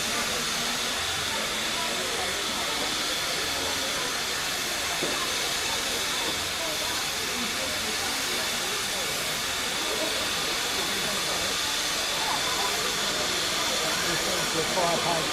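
Steady, loud hiss of steam escaping from a small heritage steam locomotive during a spring steam day at Minehead station, constant and unbroken throughout, with faint voices in the background.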